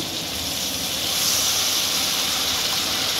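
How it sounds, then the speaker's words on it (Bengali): Hot water poured into a hot pan of catla fish curry with potato, eggplant and drumstick, producing a loud, continuous steamy hiss and rushing sizzle that swells slightly midway and holds steady. "এবার গরম জলটা আমি দিয়ে দিচ্ছি"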